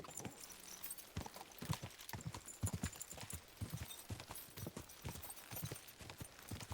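Horse hooves clip-clopping at a steady trot in Kingdom Come: Deliverance II, a brisk, even run of hoofbeats close by with an occasional faint whinny, no talk over them.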